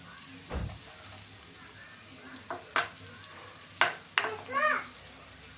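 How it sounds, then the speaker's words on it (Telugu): Chopped onions and pounded garlic fry slowly in a pan over a low flame. A soft continuous sizzle runs throughout, broken by a few sharp spoon scrapes and clinks. "ఇప్పుడు ఉల్లిపాయలు అలాగే వెల్లుల్లి దంచి వేసిన వెల్లుల్లి బాగా మగ్గనివ్వాలి."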